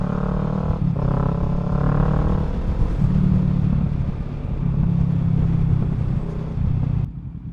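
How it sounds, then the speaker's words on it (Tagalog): Street traffic near a mall, with car and motorcycle engines rumbling and revving close by, swelling and fading in waves before cutting off near the end. "Kaya traffic kasi may mall."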